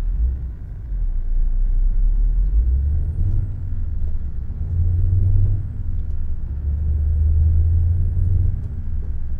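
A 2017 Scania S730 truck in Euro Truck Simulator 2 drives over rough roads, its engine a loud, steady low drone that swells and eases in long waves, heard alone without talk.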